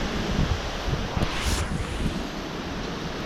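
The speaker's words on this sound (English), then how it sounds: "the wind gusts are very strong with this storm" Strong storm wind gusts roar steadily against the microphone with rumbling buffeting and a brief surge in the middle, and no voices.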